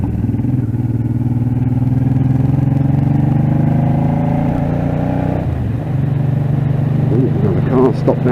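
A Honda Deauville motorcycle rides along a winding country road past farmland, its engine droning loud and steady close by, the pitch shifting as it slows and then picks up again.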